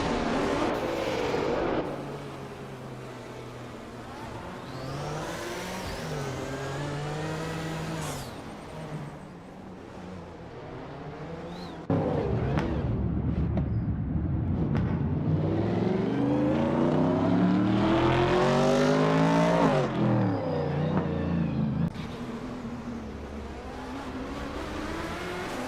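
Racing cars in a video game race rev and accelerate, engine pitches sweeping up and down steadily, loud and continuous, with a louder, denser stretch midway.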